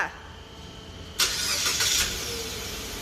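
A Mitsubishi Xpander's engine cranks and catches with a sudden loud starter whir, then settles into a steady idle, heard up close with no talking.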